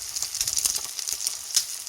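A fried egg sizzles in a hot pan, its bright crackling hiss rising and falling with quick spattering pops, close and fairly loud.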